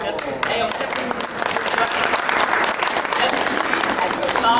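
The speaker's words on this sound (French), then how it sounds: "Hey, on s'applaudit." An audience at a wellness fair applauds together, a dense, sustained patter of clapping mixed with cheers and voices speaking over it.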